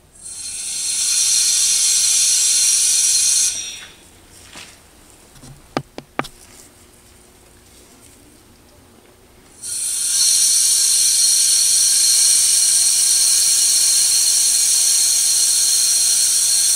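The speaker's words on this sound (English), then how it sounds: "slowly release the valve to build pressure" Air hisses loudly and steadily into a pressure pot holding an Alumilite resin casting, stops for several seconds with a few sharp clicks, then hisses again at full strength.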